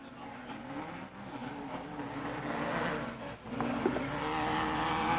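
Off-road three-wheelers, quads and motorcycles race at Raven Raceway in 1987, engines droning and rising together at mid distance, building louder through the stretch with a brief dip before revving back up.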